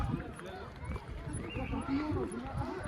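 Horse hooves clip-clop steadily during a horseback ride in Kashmir, with soft repeated thuds running beneath people talking nearby.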